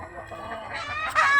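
Chickens clucking at close range, a steady murmur of calls that rises into a louder squawk near the end.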